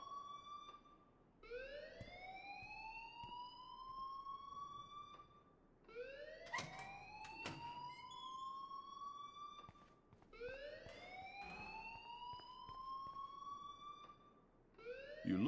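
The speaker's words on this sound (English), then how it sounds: "Leave Miss Caulfield alone and please turn off that alarm since that's your job." A rising, wailing alarm siren in the game Life is Strange sweeps upward repeatedly in long cycles, steady and moderately loud with no talk.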